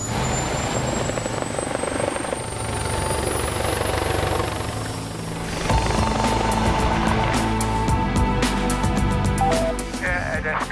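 An air ambulance helicopter starting its second engine and spooling up, a rising turbine whine over a steady roar that swells into rhythmic rotor thumping, loud and close throughout.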